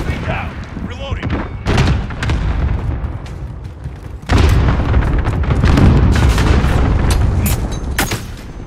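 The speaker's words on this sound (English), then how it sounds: "Allied cluster strike inbound." Cluster strike explosions in Call of Duty Modern Warfare: loud booming blasts break out in bursts, with a heavy rolling barrage in the second half, mixed with gunfire.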